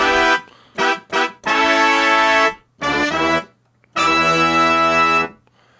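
Bright, buzzy synthesized brass chords from a MainStage 3 keyboard patch play in short stabs and longer held notes, separated by brief silences.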